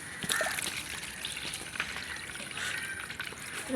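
Water is poured out of a container holding pet fish, producing a steady, fairly faint trickle and slosh that lasts throughout without any talking.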